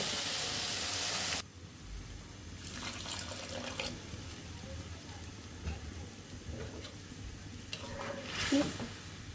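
Broth poured into a pan of frying green and ripe chillies with aubergine, a steady sizzle and bubbling after a brief loud splash, with occasional stirring and light clinks.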